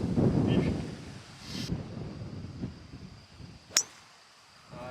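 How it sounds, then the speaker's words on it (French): Strong wind on a golf course rumbles against the microphone, strongest at first and then easing, with a brief sharp clink partway through. "Il y a beaucoup de vent."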